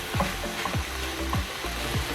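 Vegetables sizzling in a frying pan with no fresh oil added, a steady close frying hiss with soft rhythmic stirring scrapes throughout.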